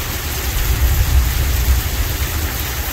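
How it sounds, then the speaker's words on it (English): Steady rain pours at night in Tombstone, Arizona, a dense even hiss with a low rumble underneath, close and fairly loud with no voices. "It's raining our last night here in Tombstone."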